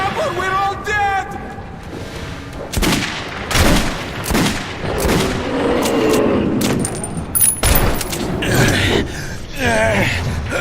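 Gunfire in the video game Metro 2033 Redux, a series of loud sharp shots and bursts in rapid succession, mixed with shouting voices and chaotic combat noise.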